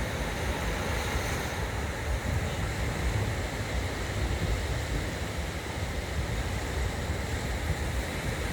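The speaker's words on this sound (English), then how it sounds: "And the waves." Ocean waves break continuously on a sandy Adelaide beach, a steady broad wash of surf with wind buffeting the microphone, no voices.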